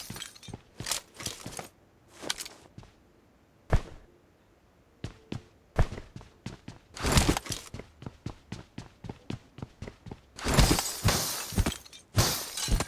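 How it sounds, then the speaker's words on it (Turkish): Window glass breaking in the video game PUBG Mobile on the Erangel map, heard as a rapid series of sharp, loud shattering crashes and tinkles, with a dense burst of breaking glass near the end. "Camları kırma kırma."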